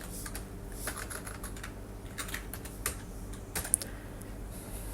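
Steady typing on a computer keyboard while entering code in a Microsoft Access database, a rapid stream of close key clicks with occasional louder keystrokes over a faint background hum.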